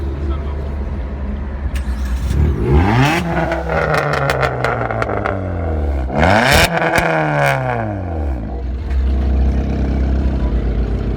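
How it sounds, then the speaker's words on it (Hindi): A modified Mahindra Scorpio with a full straight-pipe exhaust and valvetronic rear section revs hard several times, loud and close, the engine rising and falling over a steady idle rumble. "भाई आप बहुत शोर मचाते चल रहे हैं, एक बार एग्जॉस्ट साउंड सुना दो।"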